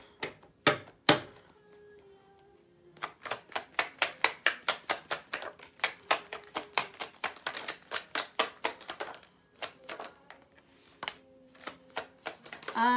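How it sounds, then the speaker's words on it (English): Tarot cards are shuffled by hand in a quiet room, giving a long run of crisp, rhythmic slaps and riffles close to the microphone, with short pauses between bursts. "Let's shuffle."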